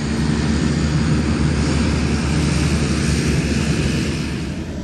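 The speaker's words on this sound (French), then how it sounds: "on regarde les avions décoller en attendant de repartir" Airplanes take off at a small airport near Wawa, a loud, steady engine roar filling the air without pause and easing slightly at the end.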